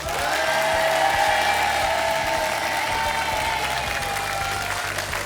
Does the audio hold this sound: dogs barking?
no